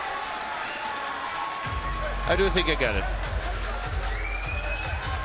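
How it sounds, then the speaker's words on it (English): A Las Vegas fight crowd cheers and roars in the arena, rising midway under steady commentary from a voice up front. "a very appreciative crowd here inside the joint in Las Vegas"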